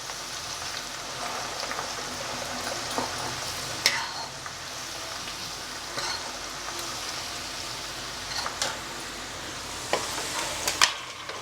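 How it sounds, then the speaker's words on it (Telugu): Ginger-garlic paste fries gently in peanut oil over low heat for gongura chicken pickle, a steady close sizzle with occasional crackles and spoon scrapes throughout, no voices. "అల్లం వెల్లుల్లిపాయ యాగనివ్వండి సిమ్లో పెడుతున్నా పొంగి వస్తుంది"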